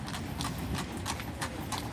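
Horse hooves clip-clopping on pavement near the Votivkirche, a steady walking rhythm of sharp strikes, close and loud, over a busy street hum.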